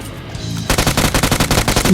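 Automatic gunfire in the video game PUBG Mobile: after a brief quiet lead-in, a rapid burst of loud, evenly spaced shots rattles on close and continuous.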